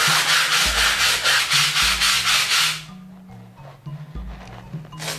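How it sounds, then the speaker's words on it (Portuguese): Rhythmic coarse sanding strokes with number 36 sandpaper scrape loudly against a wall, about eight in a steady back-and-forth rhythm, then pause before one more stroke begins. "eu estou lixando a metade dessa paredinha"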